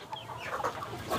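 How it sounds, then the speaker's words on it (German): Several chickens, including roosters, cluck softly and steadily inside a farm wagon fitted with roosting perches, a close, continuous murmur of overlapping calls with no one speaking. "lernen die Hähne hier im Bauwagen auf Stangen zu schlafen"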